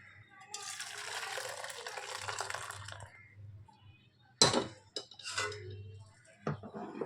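A pot of lentil dal is lifted off the stove, with soft metallic clatters and a couple of sharp pot-and-utensil clanks amid low sizzling and hiss, close by, with a voice speaking briefly.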